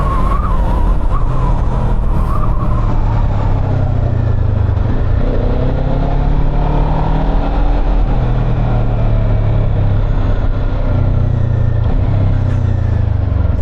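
A Kawasaki Z7 hybrid motorcycle accelerating, a loud steady engine and road roar with rising and falling pitch sweeps as speed builds, close to the microphone with no talk.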